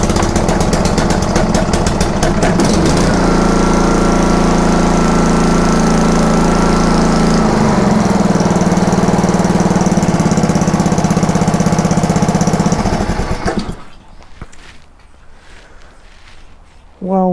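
A petrol engine on a Karcher pressure washer, recently moved and probably overdue for an oil change, runs loud and steady with a rattling, mower-like drone for about thirteen seconds, then cuts off into near quiet.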